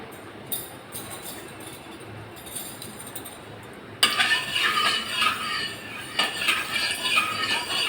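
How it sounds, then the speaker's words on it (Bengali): A metal spatula stirs hot oil in a cooking pan: quiet at first with a few light taps, then a run of clinks and scrapes against the pan over a soft sizzle, close and moderately loud. "আমি সবার আগে এটা একটু খুন্তি দিয়ে তেলটা নাড়িয়ে নেব।"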